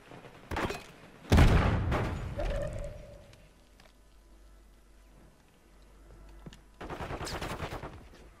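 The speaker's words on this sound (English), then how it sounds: "They're shooting from the top." Gunfire in the shooter game Warzone: sharp bursts of shots at the start, a mid-distance volley with a ringing tail, a quiet stretch, then another rapid burst near the end.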